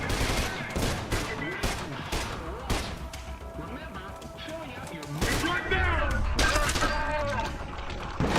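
Gunfire from a suppressed weapon in the first-person shooter Trepang 2, a dense run of sharp shots and bursts mixed with impacts and game effects, loud and continuous across the whole stretch, with a voice talking over it.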